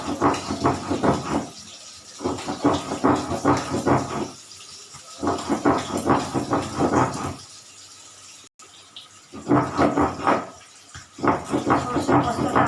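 Mustard and poppy seeds with salt and a green chilli are ground on a grinding stone in rhythmic bursts of gritty scraping strokes, broken by short pauses.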